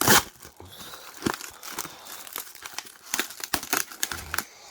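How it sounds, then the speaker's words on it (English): Crinkling plastic and paper packaging layers crunch and tear in irregular bursts as large scissors cut, with occasional snips, close up and fairly loud, no talking. "I have this many layers, so I think I will use the large scissors"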